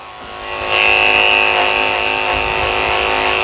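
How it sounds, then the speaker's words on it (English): Electric clippers with a 30 blade shaving the paw pads of a Yorkie, a close, steady high-pitched buzzing motor that rises in loudness after a moment and holds with slight variations as it works. "I'm going to start out by shaving the pads of her feet with a 30 blade."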